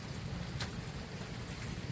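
Steady rain falling outdoors in a village, a continuous soft hiss of drops on surfaces with no talk, close and even throughout.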